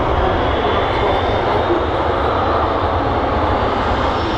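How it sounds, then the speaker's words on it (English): A jet airliner takes off from taxiway Bravo at Manchester Airport, its engines a loud, steady roar that holds without a break from start to finish. "He's taking off from Bravo, that's taxiway Bravo there, and obviously there's plenty of runway for you."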